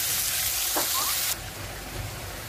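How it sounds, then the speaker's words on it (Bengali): Garlic, onion and dried chili frying in oil for gourd greens, an intense close sizzle that suddenly drops to a softer hiss partway through, with a brief stirring scrape. "রসুন আর পেঁয়াজ দিলাম, শুকনো মরিচ ভাজা হয়ে গেছে।"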